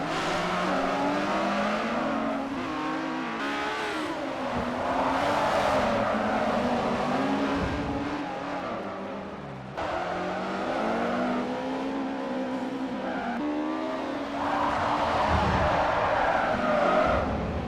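A race car slides out through a corner in the Forza Motorsport 4 racing game, tires squealing and engine revving under a continuous roar of other cars on the track, with no talking.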